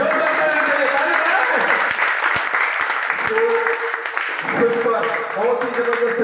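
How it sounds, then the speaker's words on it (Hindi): Loud audience applause at a Hindi-language business seminar, a steady dense clatter of many hands running throughout, with a voice speaking over part of it. "जोरदार ताली, जोरदार"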